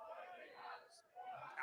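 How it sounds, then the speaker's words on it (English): Wrestling crowd at a Progress Wrestling show chanting and cheering together, a steady, moderately loud roar of many voices that swells and dips across the arena. "I can't tell what the crowd are chanting, but they are getting hyped."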